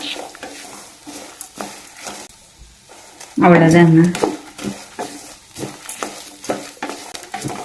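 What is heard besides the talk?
sautéing ginger and garlic in a pan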